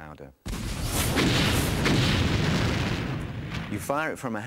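A sudden deep boom of a howitzer-fired artillery shell, a hollow metal sphere filled with gunpowder, bursting overhead, erupts after a brief voice, rumbling for several seconds before a voice speaks again.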